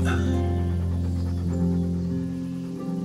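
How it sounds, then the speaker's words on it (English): In the medieval video game Kingdom Come: Deliverance, a dog pants and whimpers close by, with short rhythmic breaths and soft whines laid over a low, sustained musical drone. "There's the good doggy."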